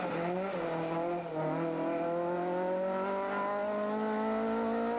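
A Toyota Corolla rally car screams along a stage of the 2003 Donegal Harvest Rally. Its high-revving engine holds a loud, steady note and climbs in pitch without a break, and no one speaks.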